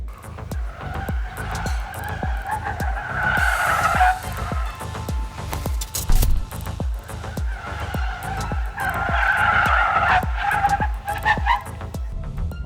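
An MG4 Electric driven through a slalom in sport mode squeals and skids its tires in repeated loud wavering swells, with rhythmic thumping underneath and no engine roar.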